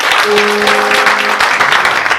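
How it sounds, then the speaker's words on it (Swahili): A church congregation at a Sunday service claps together for Jesus, a loud, dense burst of applause that fills the space, with a faint sustained tone beneath it. "Piga makofi kwa Yesu"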